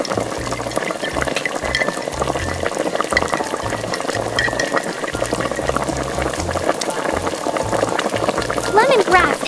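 A miniature pan of sauce with oyster sauce, fish sauce and sugar bubbles and is stirred, with irregular scraping and liquid churning over a steady simmer, fairly close and loud, with quiet background music.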